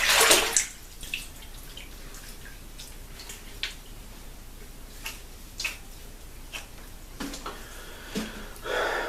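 Water splashes in short irregular bursts as a face is rinsed after a wet shave with a Rockwell 6S razor, with drips and quiet pauses between.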